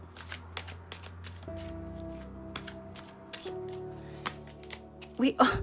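Rapid crisp flicking of tarot cards being shuffled close up, in a quick irregular patter over a low electronic hum, ending with a brief voice.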